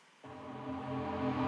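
Layered bass stems of a dance track, including a sub bass, kick in after a brief silence and build into a dense, sustained low-heavy tone that swells gradually in loudness.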